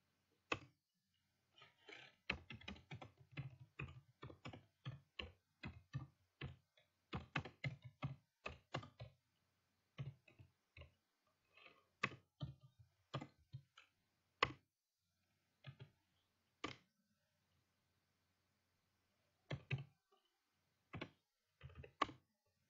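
Typing on a computer keyboard while entering a copy con command at a command prompt: sharp key clicks in irregular bursts and runs with short pauses, close and fairly quiet, no talking.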